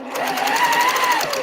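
Sewing machine stitching through a heavy seam on a holiday project, a steady, close, continuous mechanical whir with a rising and falling motor pitch, heard alone.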